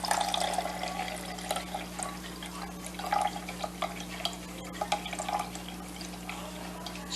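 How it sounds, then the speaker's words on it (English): Ice water pours and trickles faintly into a container for pastry dough, with soft drips and splashes over a steady low room hum. "I'm going to add 4 ounces of ice water."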